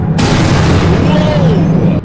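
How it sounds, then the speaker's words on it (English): Loud, booming bangs from the horror video game Interminable Rooms fill the whole moment, heavy and continuous at close range. "What is that, like, banging sound?"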